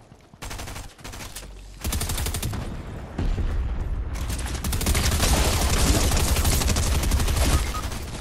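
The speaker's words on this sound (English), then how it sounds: "Shoot him, Mary." Gunfire in the video game Fortnite builds from scattered shots into sustained, loud automatic bursts that overlap almost continuously, with heavier rapid fire dominating the second half.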